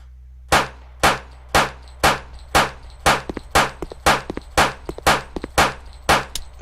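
Gun dry firing in a Unity first-person shooter game: a rapid series of about fifteen sharp metallic clicks, loud and close, steady at first then quicker and slightly irregular, with no talking.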